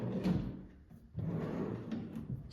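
A concealed drawer in a handmade wooden cabinet, slid open and shut twice in quick succession, each a short wooden scraping slide at close range with no voices.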